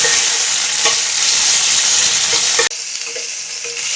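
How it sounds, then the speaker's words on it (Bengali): Tomato dropped into hot oil for a crab masala sizzles loudly and steadily while being stirred, the frying noise cutting abruptly to a softer, thinner sizzle partway through. "এখন এই টমেটোটাকে তেলের মধ্যে ছেড়ে দেবো।"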